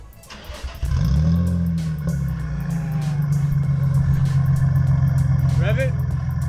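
A car engine fitted with test pipes fires up and revs hard, a loud raspy exhaust roar that then holds steady; voices talk over it.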